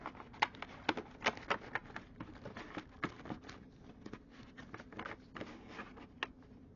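A deck of tarot cards, kept in a room of a flooded workshop, is shuffled by hand, giving a quick run of soft papery riffles and slaps at close range, with no voice.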